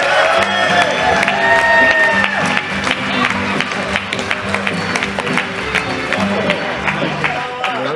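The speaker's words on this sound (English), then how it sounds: "Give her a round of applause." A roast audience breaks into applause and cheering, with whoops over clapping that starts loud and gradually thins while voices carry through the crowd.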